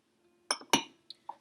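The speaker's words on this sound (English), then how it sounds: "Gonna mix them using a whisk." A whisk knocks against a bowl of dry muffin ingredients: flour, ginger, salt, baking powder and baking soda. There are four short, close clinks, with the first two the loudest, and no talk.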